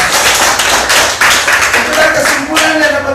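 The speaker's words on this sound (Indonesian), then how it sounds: "Tepuk tangan untuk saya." Hand clapping in a classroom-style lesson on circles, a run of loud, close claps with uneven rhythm, and a voice cutting in briefly over the latter part.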